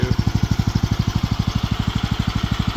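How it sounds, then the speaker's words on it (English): A Predator 459 engine swapped into a Bolens 1254 garden tractor idles low, a close, even, rapid thumping pulse that holds steady throughout, with no talk. "So this is the low idle I have it set to."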